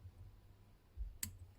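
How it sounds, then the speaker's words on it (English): Scissors trim the thread ends while a bead-head hare's ear nymph is tied. One quick, faint snip sounds close by in a quiet room. "Now come with your scissors"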